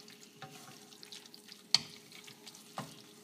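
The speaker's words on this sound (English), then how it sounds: "Now we cook the meat until it's no longer pink." Meat sizzles and hisses quietly in a pan for Thai red curry, a steady low fry broken by a few soft stirring clicks, with one sharp scrape near the middle.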